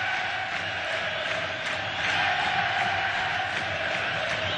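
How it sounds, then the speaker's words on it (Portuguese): Football crowd in a stadium's stands at a 2008 Copa Libertadores group match, Fluminense against Arsenal, roaring and cheering steadily, a dense, continuous wall of distant voices with slight swells and no clear individual calls. "A torcida está desde que chegou fazendo essa festa."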